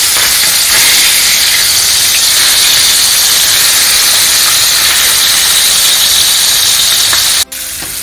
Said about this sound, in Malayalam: ഇതിനത് നമുക്ക് ഒന്ന് പൊരിച്ചെടുക്കണം. 2 സൈഡും മറിച്ചിട്ടിട്ട് നന്നായിട്ട് വേവിച്ചെടുക്കണം.